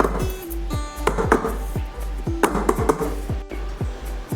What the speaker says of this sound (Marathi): आता या डब्याला आपल्याला थोडंसं टॅप करायचं आहे